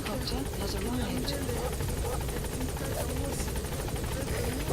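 Support helicopter arriving in Metal Gear Solid V: The Phantom Pain, a steady loud rotor drone with rapid blade chop throughout, under game radio voices.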